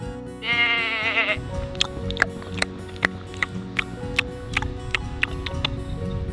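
A toy lamb bleats once, a loud, wavering cry lasting about a second, in a children's toy farm animal play scene, followed by a run of sharp clicks and taps from the toys.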